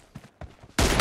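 Gunfire in an M24 TDM match, with a few soft, scattered pops leading into a loud, dense burst of rapid shots at the end.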